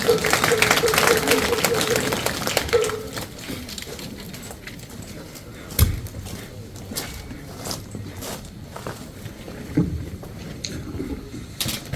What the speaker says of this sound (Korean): 여러분들 큰 박수로 환영해주세요.